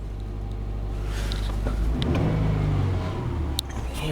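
A cold 2007 Subaru Forester on a frosty morning, engine rumbling steadily with faint clutch chatter as the accelerator is released, a brief sharp click near the end.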